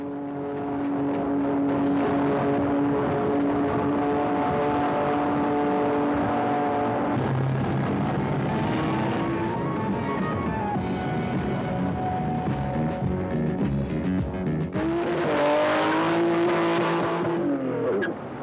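A Koenig Specials tuned Ferrari from the mid-1980s accelerates hard, its engine note climbing steadily for a long stretch, dipping at a gear change, then rising again, loud and close under a musical backing.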